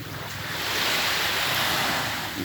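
Morning sea waves wash onto Bang Saen beach in a continuous rushing surf, swelling slightly and then easing, with wind buffeting the microphone and no voices.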